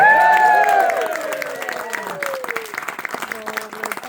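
A crowd claps and cheers at a Tombstone, Arizona show, a steady burst of applause under loud singing voices and sustained tones that fade out, leaving scattered claps.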